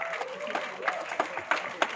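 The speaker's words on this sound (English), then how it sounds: "I think Ailid deserves a loud round of applause" Audience applause at an iLEAD event: scattered, uneven claps rising and falling over a steady crowd murmur for about two seconds.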